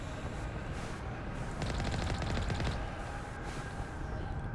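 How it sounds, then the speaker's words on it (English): Rapid missile fire in the sci-fi shooter Mass Effect comes as a burst of fast repeated launches and thuds at mid-distance, layered over a rumbling game soundscape. "That's a lot of missiles."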